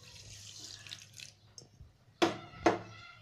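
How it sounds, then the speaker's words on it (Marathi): Water is poured into a kadhai holding sugar, a soft trickle followed by two sharp splashing pours close by, with quiet moments in between and no speech. "दीड कपाच्या आसपास पाणी टाकायचं आहे."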